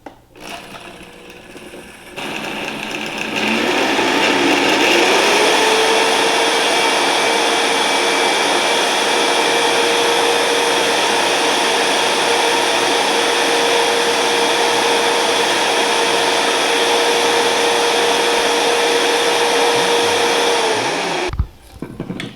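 A Vitamix blender with its dry container powders freeze-dried chicken bone broth, revving up to a loud, steady high-pitched whir that holds for nearly twenty seconds before cutting off abruptly.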